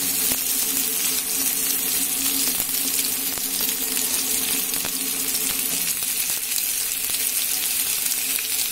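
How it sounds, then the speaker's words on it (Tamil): Fish frying in a pan at home as oil is poured lightly over each piece, a constant loud sizzle dotted with sharp crackles and pops, with no one talking. "அது மேல எல்லா மீன் மேலே இப்படி லேசா எண்ணெய் ஊத்திக்கலாம்."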